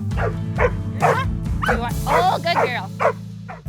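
A search and rescue dog barks in repeated yips and bow-wows during a disaster search training exercise, loud and close, with a person speaking over the barking.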